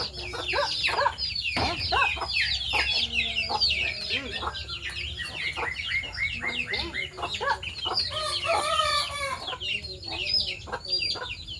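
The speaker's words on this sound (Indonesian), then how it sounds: "Neng lanjut makannya ayam pemirsa" Several chickens cluck busily and continuously nearby, with overlapping calls and occasional louder squawks, over a low background hum.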